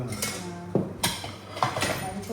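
Metal pots and utensils clink and clatter as a kitchen is set up, a few sharp knocks and rattles close by over low background noise.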